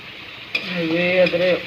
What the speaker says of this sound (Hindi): पियाज के भल भाव में जारी देवे